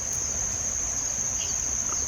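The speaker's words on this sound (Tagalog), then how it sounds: "Kung narinig nyo yung mga boses ng langaw, malapit lang." Flies buzzing close by at a foul-smelling spot outdoors, a steady, continuous insect drone that runs without a break and carries no speech.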